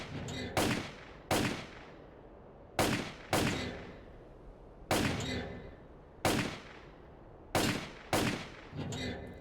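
Rifle shots in the STALKER: Clear Sky game, around ten sharp loud reports fired singly and in quick pairs, each ringing out with a short echoing tail.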